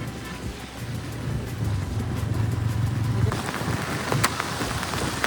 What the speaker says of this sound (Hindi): बारिश अभी भी बहुत तेज से चालू है